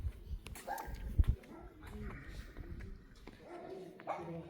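A dog barks and whimpers in short bursts at a moderate distance, mixed with faint background voices.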